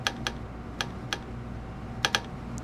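Computer keyboard keys tapped during a Train Simulator 2016 session, a few separate clicks and a quick pair near the end, close and fairly quiet over a low steady hum.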